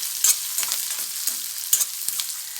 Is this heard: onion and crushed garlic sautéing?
yes